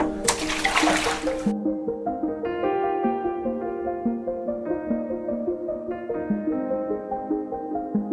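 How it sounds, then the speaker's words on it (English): Water rushes briefly and loudly while rinsing x-ray film, then cuts off after a second or so, and gentle melodic music carries on alone. "So I'll keep rinsing it until that's all gone."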